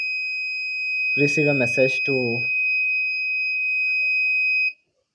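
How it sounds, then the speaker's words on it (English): Electronic buzzer on a pressure-sensor alarm project sounds a continuous steady high-pitched tone for several seconds, then cuts off abruptly, while a person briefly speaks over it. "So you can see the buzzer"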